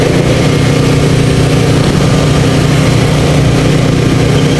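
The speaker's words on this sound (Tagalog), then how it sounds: "Makina yung generator." A generator engine runs loud and close at a street traffic light, producing an unbroken, even mechanical drone with no pauses.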